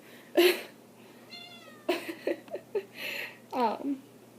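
A domestic cat meows several times in short, close, moderately loud calls spread across a few seconds, with a drawn-out final meow and no talk over it.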